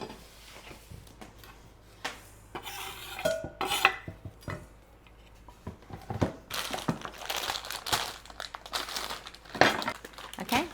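Chocolate is broken into chunks and dropped into a bowl for homemade brownies, with irregular snaps, crinkling wrapper and clinks against the bowl spread across several seconds, fairly quiet and close.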